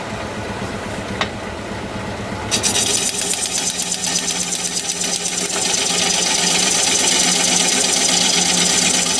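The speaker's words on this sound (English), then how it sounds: "I'm going to sharpen up again." A wood turning tool being sharpened on a grinder in a workshop, a steady loud whine and grinding that starts abruptly and runs continuously, growing slightly louder toward the end.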